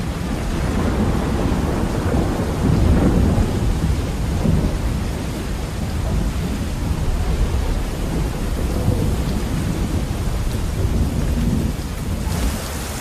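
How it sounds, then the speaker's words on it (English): A heavy thunderstorm over an Amazon village, with steady, dense rain and deep rolling thunder rumbling throughout, loud and continuous. "the champion wrestler Chumin tries to brave the oncoming storm"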